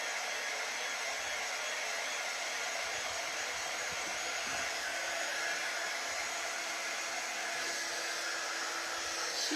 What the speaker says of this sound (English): We've definitely used this dryer tonight.